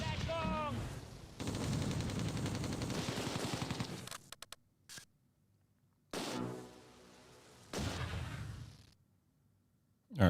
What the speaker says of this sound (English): Trying to drop mortars down on this enemy infantry out in the open.